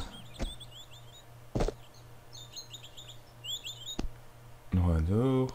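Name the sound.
bird chirping in video game Tomb Raider 2, Venice level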